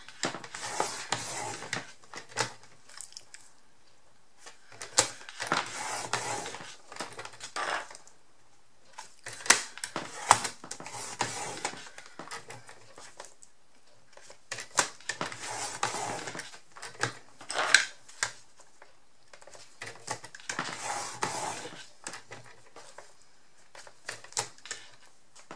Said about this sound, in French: Je prends le massicot et je refais mes plis en suivant